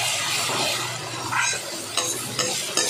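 Masala paste for raw mango rice frying in oil, with a steady close sizzle and several sharp scraping strokes of a spatula against the pan.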